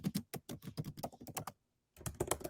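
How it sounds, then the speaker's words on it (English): Fast typing on a computer keyboard, close and crisp, with a dense run of key clicks, a brief silent pause, then another quick burst. "So I'm just typing them out here."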